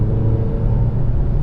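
A 2021 Mercedes-Benz GLC300 engine gives a short throttle stab, a low, steady rumble close to the cabin that rises only slightly, with no talking.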